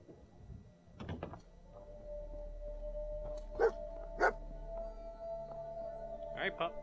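A dog barks a few short times in the video game Fallout 4, with spaced yelps over a low steady hum and a faint tone, moderately quiet.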